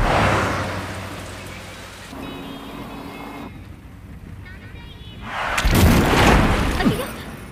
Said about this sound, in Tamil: மழை என்னங்க திடீர்னு இப்படி கொட்டுது?